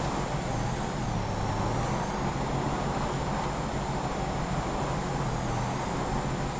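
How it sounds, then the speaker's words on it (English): A car engine in GTA 5 holds against the rev limiter in first gear, a loud, constant high-revving drone with a slight wavering pitch that stays close and unbroken. "We're down in first against the rev limiter"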